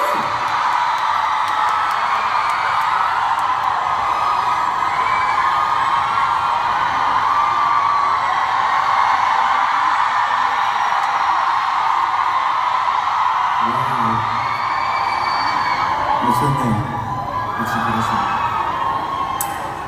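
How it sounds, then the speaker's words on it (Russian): A concert crowd at a live show in Moscow screams and cheers continuously, a dense roar of whoops and shrill yells; a few louder shouts break through near the end. "кричите сейчас"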